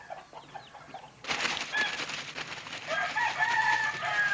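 A game rooster, a high-spurred fighting cock, crows close and loud and keeps going for several seconds, with clucking and what may be wing flaps around it against quiet outdoor background.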